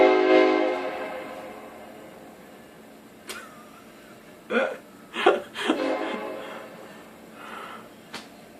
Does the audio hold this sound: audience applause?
no